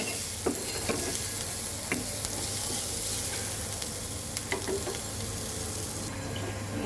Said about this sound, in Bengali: পেঁয়াজটা একটু সুন্দর করে ভাজা হোক